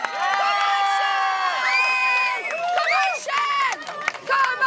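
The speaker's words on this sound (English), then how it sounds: "Give a massive round of applause." Crowd at a chilli eating contest in Wales cheering and whooping loudly, with shouts and high voices over a steady roar of noise, swelling and dipping for several seconds.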